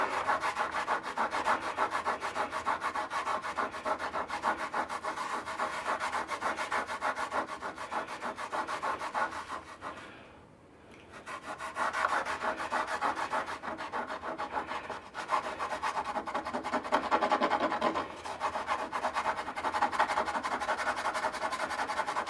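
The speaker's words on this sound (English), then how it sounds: "I'm applying a little to my hand, and I'm going to rub with the grain." A hand rubs finish into a wooden surface along the grain, giving a steady, close dry friction that continues almost without pause, briefly dropping away near the middle before resuming alone.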